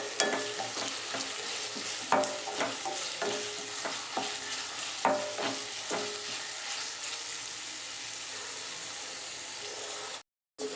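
Onions with a little salt fry in a pan, a continuous sizzle broken by regular scraping stirs and spatula knocks, close and steady until a brief cut near the end.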